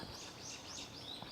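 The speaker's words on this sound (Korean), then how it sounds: "새소리가 엄청 놀아납니다." Birds chirping and singing in the morning outside an open window of a house at the foot of a mountain, faint high calls repeating in short phrases over a quiet background.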